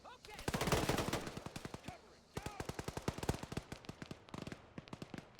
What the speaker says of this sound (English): I have Super about to get a strike in. Guns and rockets